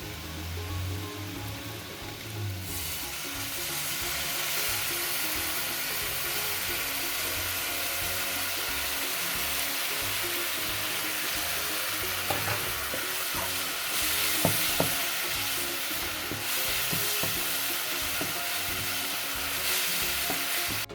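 Onions fry with spices in a pan, sizzling steadily and close by for the whole stretch, with a few sharp pops and clicks of stirring in the middle and no voices.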